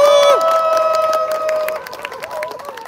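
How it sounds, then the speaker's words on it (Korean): Crowd at a Korean union rally cheering and applauding for performers, a loud mix of shouts, sustained tones and clapping that softens toward the end. "다시 한번 큰 박수 한번 보내주셨으면 좋겠습니다"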